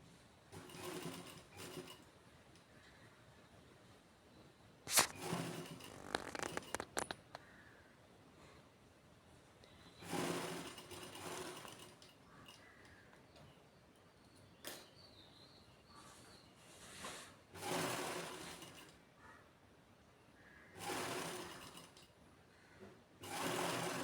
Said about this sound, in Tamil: மடித்து ஒரு தையல் போட்டுக்கலாம்.